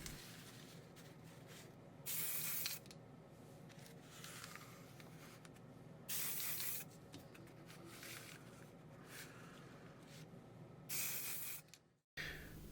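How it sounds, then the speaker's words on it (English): Black paint hisses from a spray paint can in three short bursts of about half a second to a second each, separated by quieter gaps with faint handling noise. "Then spray a light coat of paint from each side."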